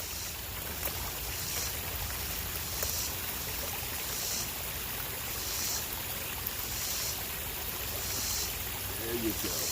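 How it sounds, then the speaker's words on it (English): Fish splashing water, an ongoing wet, churning wash of splashes and trickles close by, loud and steady, with a faint voice underneath. "They're really splashing the heck out of me."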